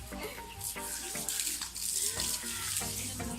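Garden hose water spraying outdoors on a rainy day in Davao, a steady hissing splash with bursts of louder spatter, mixed with background voices and rain.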